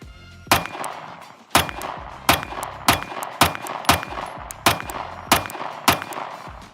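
Nine sharp gunshots from a compact Sig Sauer P365 X-Macro pistol with an optic fire in a steady, fairly quick rhythm, each loud crack ringing briefly before the next. No one speaks.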